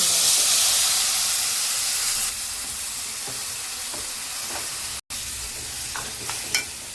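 A mango mixture with hing and curry leaves sizzles in a pan while being stirred, a close, steady hiss with occasional scraping and a brief break partway through, no voices.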